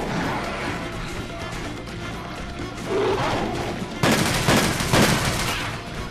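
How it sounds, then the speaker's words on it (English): Repeated heavy bowgun blasts from Monster Hunter Generations Ultimate strike a monster. They come as dense, loud bursts, strongest in the second half, over a busy battle soundscape. "I'm going to start blasting him in the face here"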